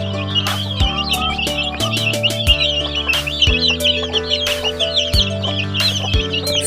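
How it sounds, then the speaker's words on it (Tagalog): One-month-old native chicks kept in a cardboard box peep constantly in a dense, high chorus close by, with occasional soft clucks mixed in over a steady low background hum. "ito yung ating mga alagang sisiw, mga kadoks natin"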